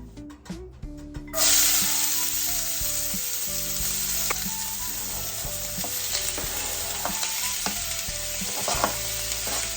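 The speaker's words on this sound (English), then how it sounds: "I'm going to saute my onions and peppers" Onions and peppers sautéing in garlic-infused olive oil in a pan, a loud steady sizzle that swells after they hit the pan, with scattered stirring clicks and no talking.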